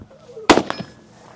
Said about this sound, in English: Nick to your left, Jacob to the right, both starting with rifle.